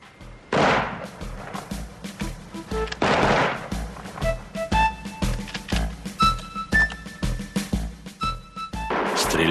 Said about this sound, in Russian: Или, скажем, стрельба по мишеням.